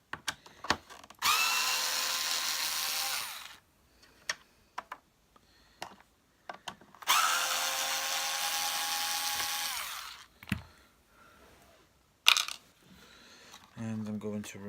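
A power driver backs out the base plate screws on a Hoover Junior 1346a vacuum cleaner, two sustained close whirring runs of a few seconds each, separated by clicks, taps and small metal clinks from screws and parts.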